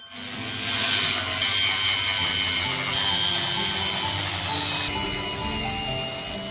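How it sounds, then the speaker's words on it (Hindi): Continuous abrasive scraping of 2500 grit sandpaper across a car's clear-coated body panel, steady and fairly loud throughout, with no talking. "उन्होंने 2500 ग्रिड का सैंड पेपर निकाला और कार की बॉडी को खिसना शुरू कर दिया"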